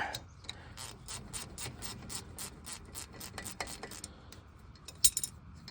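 Vice grips loosen a brake bolt on a 2006-2018 Jeep Wrangler front brake: a close, fairly quiet series of ratchety scraping and rubbing clicks in an uneven rhythm, ending with a sharp metallic clink.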